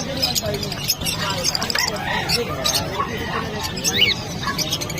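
Lovebirds chirping at a busy pet market in Bocaue, with many birds together. Scattered high chirps and tweets sound under loud, continuous crowd chatter and nearby voices.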